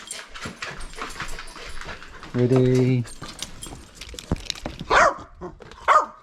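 Excited dogs whimpering and letting out short barks while being shown a new basketball, with a person speaking over the whines and yelps in a lively indoor scene.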